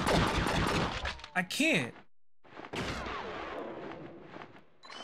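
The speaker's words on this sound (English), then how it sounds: "Can I just shoot at him regularly?" Gunshots ring out in the video game True Crime: Streets of LA as a few loud bursts beneath a man's close, steady talking.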